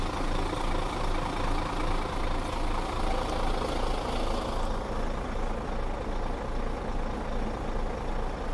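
A truck engine idling, a steady low rumble that runs without a break, with a faint hiss partway through and no voices.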